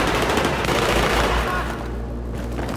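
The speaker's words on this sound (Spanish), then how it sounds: "Disparo y carga, disparo y carga" Sniper rifle fire from Battlefield 3 gameplay, loud and dense with heavy low booms, several shots with no pause for a clean reload, close and continuous across the stretch.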